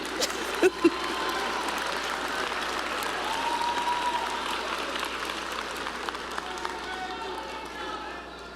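A high school graduation audience applauds teachers and staff, a broad wash of clapping heard from a distance with a couple of sharp nearby knocks early on and scattered voices mixed in.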